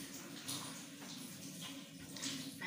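Water poured and sloshed through a sieve cloth holding multi-grain pap mash over a basin, a continuous splashing and trickling with soft handling noises.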